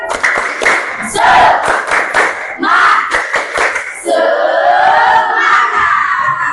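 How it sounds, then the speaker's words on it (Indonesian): Junior high students in a classroom perform a rhythmic spirit clap chant, with quick bursts of claps and shouted voices repeating in short phrases, loud and close. "Tepuk semangat"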